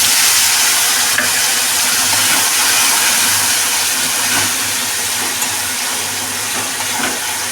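A paste of turmeric, salt, mustard, cumin, and green and dried chili sizzles in a hot pan, a steady, close, unbroken frying hiss with faint crackles throughout.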